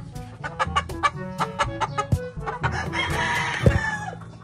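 Henny Blue gamefowl roosters and hens cluck in a quick, loud, close series of sharp calls, followed by a rooster's drawn-out crow near the end.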